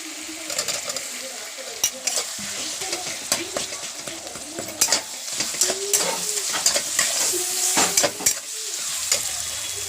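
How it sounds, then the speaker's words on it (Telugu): Tomatoes fry and get stirred in a pan for a homemade chicken curry, giving a steady close sizzle with repeated scraping and clinking of a spoon against the pan, and a voice speaking now and then. "ఇప్పుడు టమాటాలు వేసుకుందాం."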